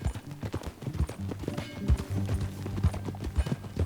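Horse hooves clip-clop steadily in Red Dead Redemption II, an even plodding rhythm of close, distinct hoofbeats with low musical score underneath and a brief whinny-like touch.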